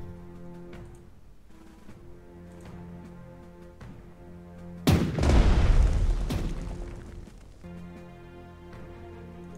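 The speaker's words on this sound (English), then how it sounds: "Shells hit for full effect." Artillery shells exploding in the World War II strategy game Strategic Minds during the invasion of France: one heavy booming blast with a rumbling tail rises mid-clip over quieter game music and effects.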